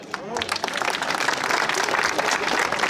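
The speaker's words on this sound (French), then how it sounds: "je voudrais que vous l'applaudissiez" An audience applauds at a cycling race prize-giving ceremony, a dense, steady wash of clapping from a crowd, with voices mixed in underneath.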